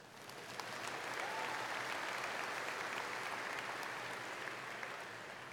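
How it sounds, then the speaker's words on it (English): Steady audience applause at a high school graduation ceremony, a dense crowd clapping continuously at moderate volume. "You can applaud."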